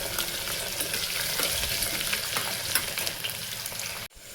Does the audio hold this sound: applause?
no